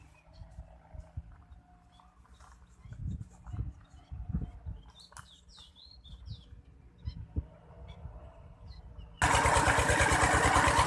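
A small petrol water pump engine in a rice paddy is pulled and coughs a few times, then fires and runs at a steady loud drone in the last couple of seconds, with birds chirping faintly in the open field beforehand.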